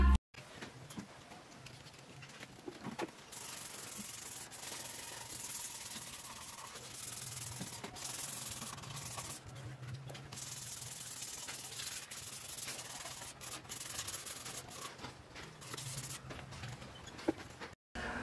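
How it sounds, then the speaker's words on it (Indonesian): Wet 400-grit sandpaper is rubbed over the original front fender of a Yamaha NMAX scooter, giving a long, steady, soft scratchy hiss with short pauses between strokes, close to the microphone and without talk. "kita amplas menggunakan grid amplas ukuran 400 karena pada spakbor NMAX ini masih original ya"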